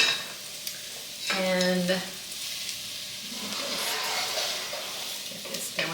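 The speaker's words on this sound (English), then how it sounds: "So I'm going to put these into the pan and saute these for just a bit." Sliced portobello mushrooms sautéing in a pan for vegan gravy, a broad hissing sizzle that swells after a brief voiced word and a tonal hum, then holds steady with faint utensil clinks near the end.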